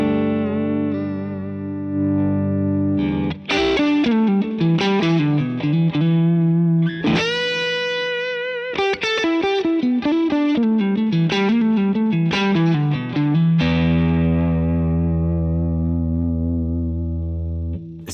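An electric guitar through a Divided By 13 RSA23 amp set for a Fender-style tone: sustained chords and ringing arpeggiated notes with a shimmering, slightly driven, effected character, loud and continuous, alone.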